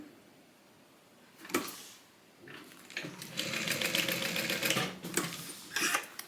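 A sewing machine bastes a fabric Bible cover in several bursts of rapid stitching, the longest lasting a couple of seconds, with short pauses between runs; loud and close, no talking.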